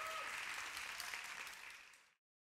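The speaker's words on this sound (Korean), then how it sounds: "피아니스트 조윤성 씨에게 뜨거운 박수 한 번 더 부탁드리겠습니다." Warm audience applause for a pianist at a jazz bass festival concert, a dense, bright wash of clapping that holds steady and then cuts off abruptly near the end.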